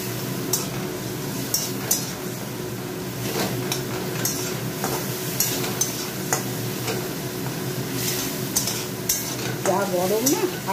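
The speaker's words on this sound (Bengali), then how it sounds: "আর একটুখানি জল দিয়ে কষে নিই।" Potato being stirred and fried in a pan with onion and garlic, with steady sizzling and scraping stirs throughout at close range, plus a few sharp clinks against the pan.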